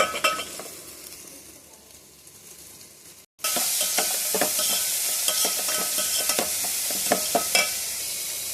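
Asafoetida and ginger sizzle in hot oil. The frying hiss jumps loud after a brief break, with steady crackling and the scrape of a stirring spoon in a pan, close and alone.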